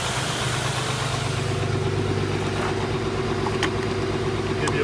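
A steady, close, loud idle from the 7.5 liter diesel engine of a dump truck, a low vibrating drone that runs unbroken with no one speaking.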